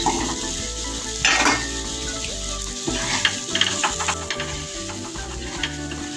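Small shallots sizzle and fry in a pan of spiced rohu fish curry masala, with steady close frying and occasional stirring clatter of a utensil against the pan, no talking.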